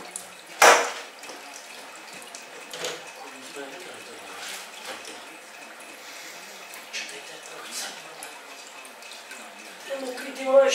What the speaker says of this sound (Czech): Ono to fakt přetejká.